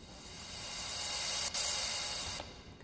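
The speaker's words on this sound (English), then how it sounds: "a little impact, like a cymbal" A cymbal-like impact effect in a music production swells as a bright, hissy noise wash, cuts briefly near the middle, then rises again and stops abruptly. It is heard alone with no voices.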